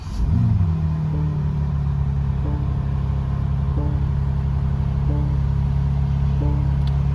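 A 2026 BMW M4 xDrive Competition convertible engine fires up with a loud starter whir and flare, then settles into a steady, deep rumbling idle close by, with no talk.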